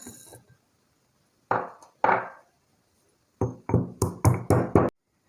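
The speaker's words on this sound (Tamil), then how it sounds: "அடுத்து நல்ல மிளகாய் இடிச்சுக்கலாம்." Dried red chillies being pounded in a mortar with cumin seeds for a manathakkali keerai soup: a few separate heavy thuds, then a quicker run of six or seven dull knocks, close and with no talk.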